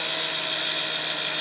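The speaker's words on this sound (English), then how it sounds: "so you can feel the drill working through the metal" A power drill bores steadily through metal, its high-pitched motor whine and grinding bit sounding close and continuous, with no talk.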